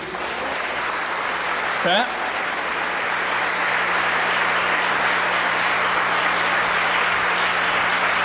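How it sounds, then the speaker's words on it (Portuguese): A church congregation applauds steadily in a broad, even wash of clapping that holds for several seconds, with a brief voice rising out of it early on. "Eu quero que você aplaude o Senhor Jesus."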